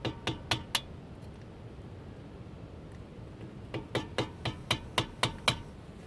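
Light metal taps from a punch knocking the brake pin out of a 2004 Porsche 911 Carrera front caliper: a quick group of four sharp clicks, a pause, then a steady run of about eight evenly spaced taps, close and crisp.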